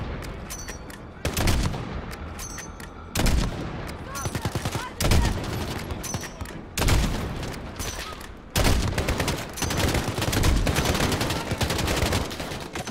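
Heavy gunfire from a Call of Duty Modern Warfare firefight, with bursts of automatic weapons and loud shots crashing in repeated waves throughout, close and dense, with no speech over it.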